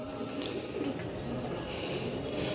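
Pigeons kept in a loft coo steadily and close by, a continuous low murmur of overlapping calls with faint chirps above, no voices present.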